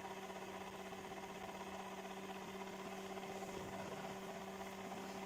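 An engine runs steadily at around 960 RPM and climbing, giving a constant, even mechanical hum with a low tonal drone that stays at the same loudness throughout.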